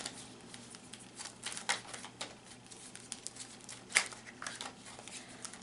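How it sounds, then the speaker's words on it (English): Soft, close riffling and patting of cards being shuffled, light irregular flutters and taps at low volume. "So I'm just going to shuffle them a few times."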